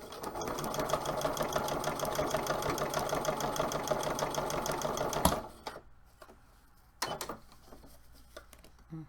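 A sewing machine runs steadily stitching crafting pieces, a close rapid mechanical whirr for about five seconds before stopping, followed by quieter handling clicks.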